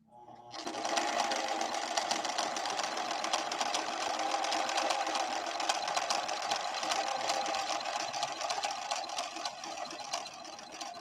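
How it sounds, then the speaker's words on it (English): A ruby red Husqvarna Viking 6460 sewing machine runs steadily through a narrowed-width scallop stitch, a dense continuous mechanical whir and rapid needle chatter holding for about ten seconds after a quick start. "Final attempt to sew this scallop stitch with a narrowed stitch width."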